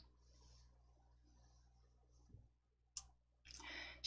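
Mouse clicks at a computer in a quiet room, a sharp single click followed after a short pause by another, crisp and close.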